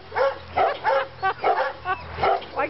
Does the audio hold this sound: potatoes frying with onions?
no